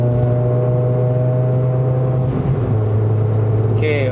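A Toyota Vios 1.5J NCP93 with a five-speed manual gearbox, its engine droning steadily under part throttle at about 3500 rpm inside the cabin, a low sustained hum with a brief shift in tone near the end.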